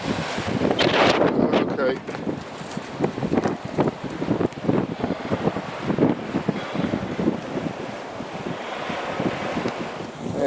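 Strong gale-force wind buffets the microphone in loud, gusty roaring bursts on an exposed spot, continuous and close throughout.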